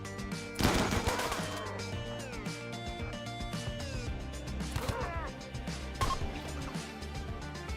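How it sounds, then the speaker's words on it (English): Rapid bursts of video game gunfire during a combat sequence, loud and clustered in sharp volleys over a busy layer of game music and effects. "They're fleeing into the gunfire."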